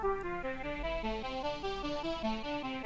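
A synth pad with FM modulated by a slow LFO, all effects switched off, plays a steady stepping pattern of sustained tones over a low drone. It is moderately loud and continuous, with no voices.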